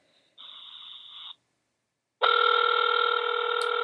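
Telephone ringback heard on an outgoing Google Voice call: two electronic ring tones separated by a pause, the second louder and steady, with no talking.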